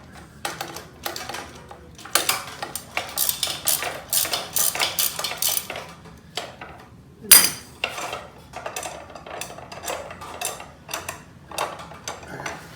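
A swivel-head socket wrench works an exhaust nut loose from a titanium exhaust on a 2019 Yamaha YZ450 dirt bike: rapid close metallic ratcheting clicks in bursts, with a louder clank partway through.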